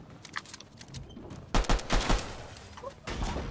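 Video game gunshots snap in quick bursts, faint at first and then louder clustered volleys, with a brief voice in the background.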